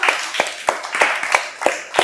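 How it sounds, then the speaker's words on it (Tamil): Children in a Tamil classroom clap their hands together in praise of a classmate, a brisk, slightly uneven run of sharp claps, close and clear, with no talking over them. "கைத்தட்டுங்க எல்லாரும்"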